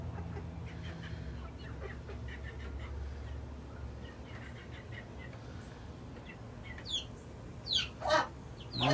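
Backyard chickens with chicks cluck softly in a coop, scattered low calls over a quiet hum, with a few louder squawks near the end and no talk.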